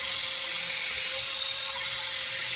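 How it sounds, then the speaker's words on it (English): A lawn mower blade is being sharpened with a continuous high-pitched grinding whine and a steady tone, close and fairly loud throughout, with no talk. "he's going back in and he's sharpening the ones that were already on there"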